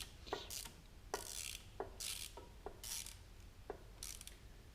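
A ratchet wrench clicks in short bursts while tightening engine top-end bolts during a cylinder head and piston rebuild, with about six quick ratcheting strokes spaced across the clip, close and fairly loud with no talking.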